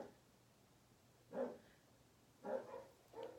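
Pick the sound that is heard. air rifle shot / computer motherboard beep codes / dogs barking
dogs barking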